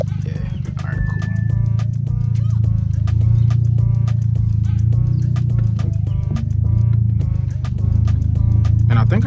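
Audi driven at full throttle up a mountain touge road, a loud low exhaust drone that holds steady and dips briefly between gears, with clicks and horse-like snorts from the surroundings and no talk.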